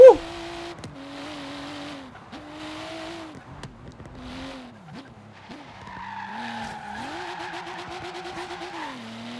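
Toyota Supra in the Forza Horizon racing game skids repeatedly, its engine note rising and falling with sustained tire squeal toward the end, while people talk excitedly over it.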